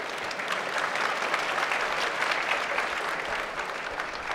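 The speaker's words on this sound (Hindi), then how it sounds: "अब ताली कब बजाओगे?" Sustained audience applause from a large crowd at a spiritual gathering, steady and dense clapping that holds at an even level throughout with no voices on top.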